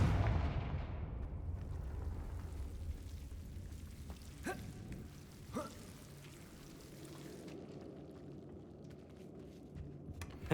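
Confringo blasting spell explosions in the video game Hogwarts Legacy, two sharp blasts a second apart over a rumbling, low ambient game backdrop, with a faint crack near the end.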